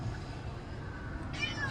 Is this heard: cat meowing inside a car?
yes